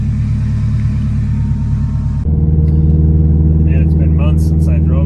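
A tuned car with a manual transmission drives along, its engine giving a steady low rumble that shifts in pitch partway through as if changing gear, with a voice talking over it.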